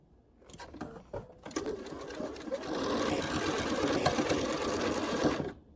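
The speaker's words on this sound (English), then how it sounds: "So I'm just going to now sew the other sides together." A domestic sewing machine stitches quilt pieces together for a chained stars quilt, starting with a few short bursts, then running as a steady continuous whir that builds in loudness and stops abruptly, close up with no talking.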